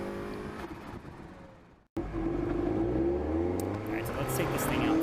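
Car lapping a race track on 195 all-season tyres, engine droning and revving loudly and close, with a brief cutout near two seconds before pulling hard again; a voice talks over it.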